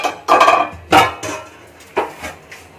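Rice being stirred in a cooking pot for chicken fried rice in a village kitchen, heard as a few separate scraping, clinking strokes of a utensil against the pot, close and fairly loud, with short quiet gaps between them.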